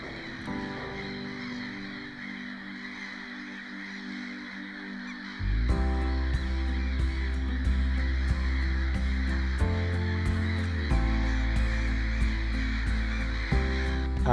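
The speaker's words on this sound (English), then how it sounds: "There's hundreds, if not thousands, birds flying all over the place" Hundreds of birds calling over a small lake in Sweden at sunset, a dense chorus of caws and honks that grows louder partway through and keeps going with no talking.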